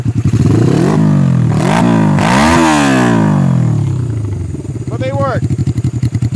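A 1982 Suzuki GS300 custom motorcycle with VM34 slide carburetors runs up close, revving hard several times with rising and falling engine pitch before settling to a chugging idle, while someone talks over it.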